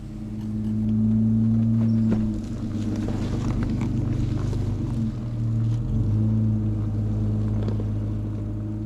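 An 80 Series Land Cruiser tows a trailer off-road, its engine giving a steady low rumble that swells and eases as it labours over the terrain, with some wind buffeting.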